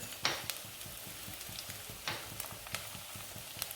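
Green chilli frying with garlic and ginger in a pan for a potato bhaji, giving a steady close sizzle broken by sharp clicks and scrapes as the spoon stirs.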